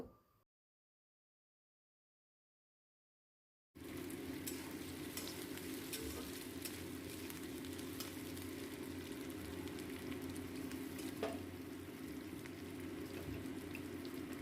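Vegetables stir-fry over a high flame with ginger-garlic paste and chopped green chilli. A few seconds of silence give way to a loud, continuous sizzle with occasional stirring scrapes, and no one speaks.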